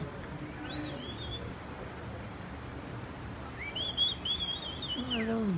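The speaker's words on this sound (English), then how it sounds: "What are those birds making noise?" Faint birds chirp in a couple of short bursts of high whistling calls, one early and a longer run near the end, over soft outdoor noise at the Roman theatre ruins in Cartagena, Murcia.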